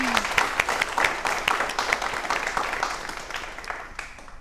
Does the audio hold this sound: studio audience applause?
yes